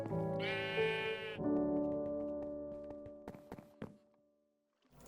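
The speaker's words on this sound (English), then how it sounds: "So there's a sheepo." A sheep in the farming video game Feed The City gives one loud, harmonic bleat that wavers and then trails off, followed by a few soft thunks and taps in an otherwise quiet scene.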